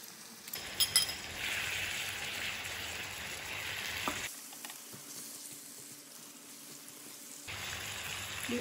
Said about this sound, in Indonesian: Diaduk sampai merata.